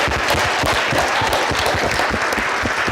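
Audience applause breaks out at a live comedy-style show, a steady dense clatter of clapping with loud rhythmic thumps and shouts mixed in, sustained throughout with no pause.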